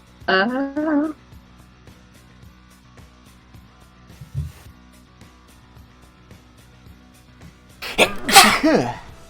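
A single sharp sneeze bursts out near the end, after a brief vocal sound at the start and quiet background hum in between.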